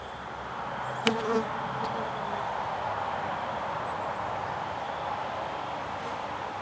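A steady, dense buzz of many honeybees around an open hive fills the air continuously, with a brief louder knock near the start.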